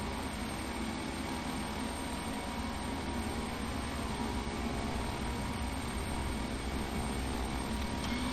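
The engines of a Beech King Air 350 in Flight Simulator X drone steadily while taxiing, a constant loud turboprop roar with a high whine and low rumble, no speech.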